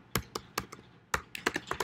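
Keystrokes on a computer keyboard while coding in Python, a quick irregular run of crisp close taps, a short burst, a pause, then a denser cluster, with no talking.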